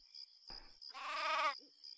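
A sheep in the video game Craft the World gives one short, clear bleat, alone over a faint game-background tone.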